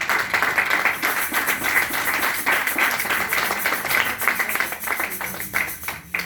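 A church congregation at a Sunday service claps in praise, a dense continuous patter of many hands that keeps an even beat throughout, with voices mixed faintly underneath.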